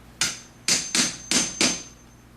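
Five sharp, crisp taps on a pointed awl mark a drill hole while repairing a bifold louvered door. The taps are close and evenly spaced, with quiet between them.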